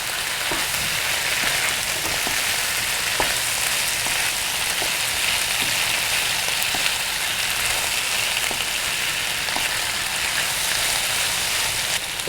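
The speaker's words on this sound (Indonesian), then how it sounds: "Sekarang saya masukkan cuminya. Kita aduk dulu ya." Squid frying in spice paste for sambal goreng cumi, stirred in the pan: a loud, close, continuous sizzle with regular scraping taps from the stirring utensil.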